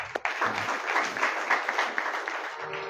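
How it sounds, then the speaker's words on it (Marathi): An audience at a kirtan, a devotional gathering, claps together in a sustained burst of applause that rises quickly, stays steady for a couple of seconds and then fades out. "त्यांच्यासाठी टाळी वाजवा."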